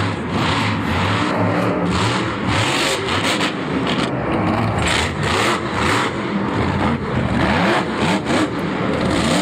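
Monster truck Hooked roaring at a Monster Jam stadium show in Orlando, 2016, its big engine revving hard and steady for the whole stretch, loud and close with a busy arena wash beneath.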